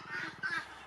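A screamer gives two short, loud, honking calls inside an aviary that also holds parrots, waterfowl and softbills, close by with a faint background.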